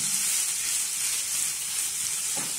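Onion and bell pepper sauté in a pan for polenta mineira, a constant close sizzling hiss that barely changes, with one soft stir near the end.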